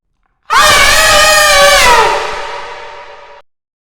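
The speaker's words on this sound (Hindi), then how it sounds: "और इस बार ये किसी औरत की हंसी नहीं बल्कि एक चीख थी" A woman lets out a single long, piercing scream, loud and sustained, that fades out over a few seconds with a slight echo, in a deserted mall.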